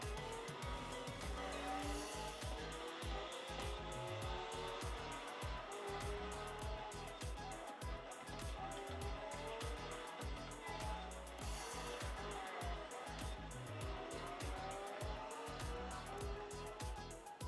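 A racing video game plays through laptop speakers: a continuous engine roar with shifting revs, screeching tires and skids, steady and fairly loud throughout, with no talk over it.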